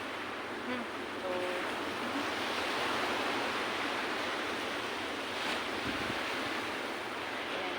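Ocean waves rolling in at Santa Catalina Beach, a steady broadband wash of surf with wind noise that stays even and fairly loud throughout, no talk over it.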